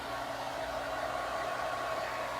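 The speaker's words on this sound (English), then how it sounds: "So grab your blow dryer," A blow dryer runs on a whiteboard to dry it, a constant, close, airy whoosh with an even motor roar and no pauses or talk.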